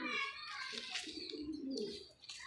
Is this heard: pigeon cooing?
yes